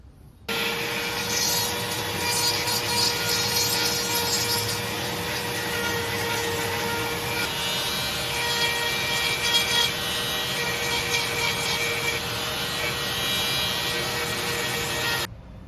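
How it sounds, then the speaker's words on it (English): A Dremel rotary tool fitted with a knurled bit grinds a hole through a boat panel, a steady high whine with rasping cutting noise running continuously for about fifteen seconds, close and alone. "I'm going to take my Dremel bit. It's like a knurled bit, and I'm just going to take that area out."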